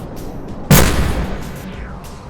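A single loud gunshot from a kinetic-round gun on a microjet in Microjet Scramble, with a sharp attack and a booming tail that fades over about a second.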